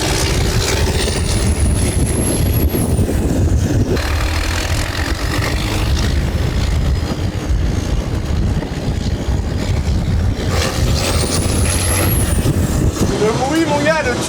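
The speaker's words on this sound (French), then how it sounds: "Le bruit mon gars, le turbo qui charge et tout." A heavy HY truck-based vehicle under load, engine roaring loudly and continuously with rising whistles of turbo spool near the start and again toward the end, voices talking over it.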